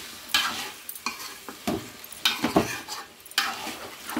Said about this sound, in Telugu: మన దుంపలన్నీ ఇందులో వేసేస్తున్నాం అన్నమాట